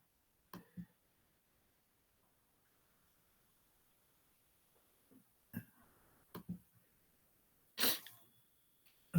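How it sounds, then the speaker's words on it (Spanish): A lecturer in a pathology class coughs and clears his throat in several short, sharp bursts separated by quiet pauses, close and fairly loud, with no talk. "Perdón por la tos, la carraspera que me ha venido por hablar muy fuerte y apasionado."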